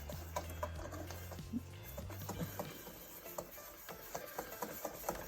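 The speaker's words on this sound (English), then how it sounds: "you're just going to whisk this up until there's no lumps and it's all well combined" Batter of flour and baking powder being whisked in a bowl, a light rhythmic tapping and scraping of the whisk repeating steadily at close range, with a low background hum early on.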